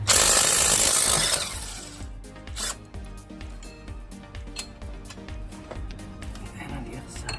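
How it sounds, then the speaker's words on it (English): Power tool loosening bolts on a Toyota Camry rear wheel bearing with a 14 mm socket, a loud whirring burst at the start, then a rhythmic rattling and clicking drive that continues at moderate level, close by. "I'm gonna go ahead and remove the bolts."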